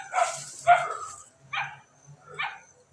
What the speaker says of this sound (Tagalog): May mga aso silang mga bantay.